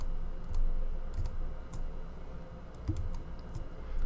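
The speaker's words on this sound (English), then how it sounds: "Now I can go and type them like that" Typing on a computer keyboard: sparse, light key clicks at an uneven pace, fairly quiet over a low room hum.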